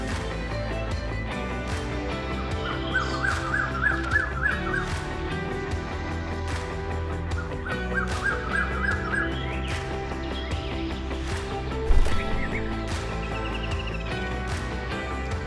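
Jungle, common and pied mynas chirp and call over a steady droning background, with short bursts of rapid, trilling notes recurring a few times.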